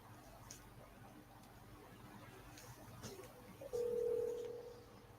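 A phone is used to call someone. A few faint taps and clicks come first, then a clear steady electronic tone sounds for about a second near the end, quiet and close.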